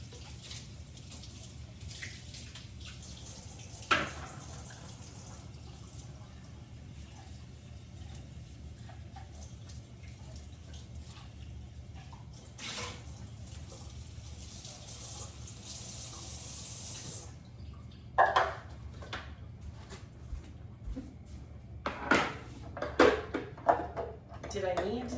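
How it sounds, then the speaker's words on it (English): Running water from a kitchen tap rinses a food chopper in a sink, a steady low wash with occasional clunks and clatters of plastic parts near the end, under faint background hum. "so I'm just going to give this a rinse."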